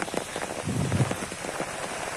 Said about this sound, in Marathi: बघा भरपूर पाऊस आहे